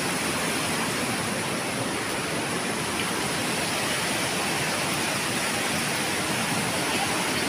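Strong river current rushing near Bunsuran Falls in Calawis, a steady, loud broadband roar of water that holds unbroken from start to finish with no voices over it.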